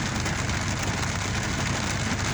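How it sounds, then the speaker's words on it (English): Rain falls in a dense, continuous hiss, steady and fairly loud for the whole stretch, with no voices over it. "In the rain."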